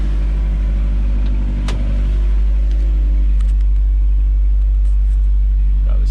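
A D21 mini truck engine fitted with a Weber carburetor runs at a steady idle, a loud, constant low rumble with a few faint clicks and knocks over it.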